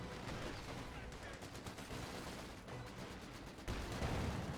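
Dense, continuous gunfire from the Company of Heroes 2 battle, with overlapping rifle and machine-gun bursts and distant artillery thuds, plus a heavier rumble near the end.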